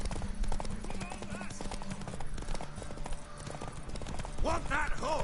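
Horse hooves clip-clop in a steady rhythm in The Witcher 3: Wild Hunt, under a character's spoken dialogue, with a brief whinny near the end.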